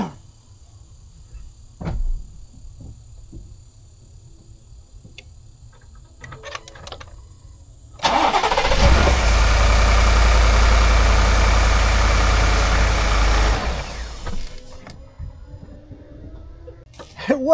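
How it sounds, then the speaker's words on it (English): A car engine is started on a boat using a jump pack. After a quiet stretch with faint ticking, the engine catches and roars loudly and steadily for several seconds, then drops to a quieter, lower running sound. "I'm going to go try to start the car now."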